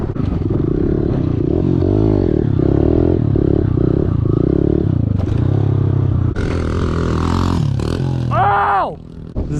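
A pit bike on a dirt track, its engine buzzing and revving up and down close by with wind rumble, scraping and clattering, and a shout over the noise near the end.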